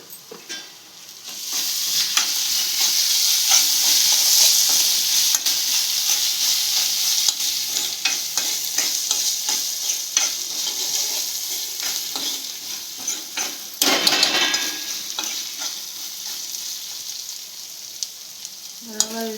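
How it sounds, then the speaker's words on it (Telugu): Ginger garlic paste sizzles and fries in a pan with oil and softened ingredients while egg puff filling is cooked, a steady close hiss with occasional stirring scrapes and no talk. "పేస్ట్ పచ్చివాసన లేదా కొంచెం ఫ్రై చేసుకుందాం"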